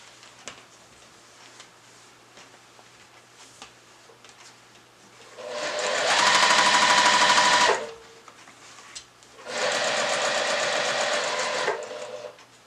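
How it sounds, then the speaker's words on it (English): A sewing machine stitches a quilt block seam, with two loud continuous whirring runs of rapid needle strokes separated by a short quiet pause, close up and with faint handling sounds before. "Needle down, stitch, back stitch, sew your seam at 1/4 of an inch."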